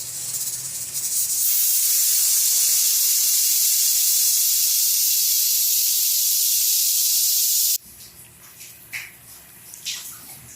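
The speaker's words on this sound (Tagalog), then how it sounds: "Pinapakakulo na ulit natin sa may pressure cooker." A pressure cooker on a home stove, used while boiling corn water, hisses with a loud, steady rush of escaping steam for several seconds before it cuts off abruptly and quieter clattering follows.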